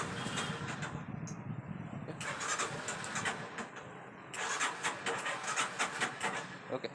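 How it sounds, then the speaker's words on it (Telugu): A Hero Karizma R motorcycle's electric starter cranks in two long bursts without the engine catching, an even whirring churn close by with a short pause between tries. "ఇప్పుడు మనం ఫస్ట్ బండి స్టార్ట్ చేద్దామా"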